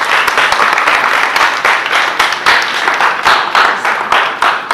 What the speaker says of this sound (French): Je vous demande de vous applaudir vraiment